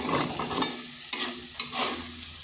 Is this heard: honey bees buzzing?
no